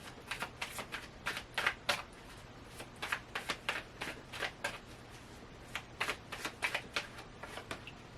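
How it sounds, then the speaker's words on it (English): Tarot cards are handled and drawn from a deck in quick, crisp flicks and taps, coming in irregular close clusters with short quiet gaps. "let's draw a few more cards on this outcome here"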